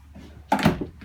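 An RV drawer being pulled open and pushed shut in a 2020 Jayco Jay Flight 324BDS travel trailer: one quick sliding thud-and-clack near the mic, briefly loud against a quiet interior.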